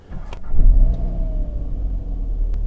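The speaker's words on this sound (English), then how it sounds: "So we're going to start the car up" An Audi TT starts up close by: a quick crank catches into a surge of revs, then settles into a steady, low idle rumble.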